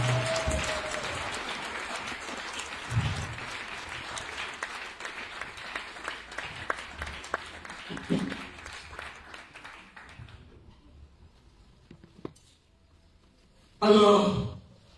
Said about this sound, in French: Je pensais que tu allais me donner une bonne acclamation à l'Éternel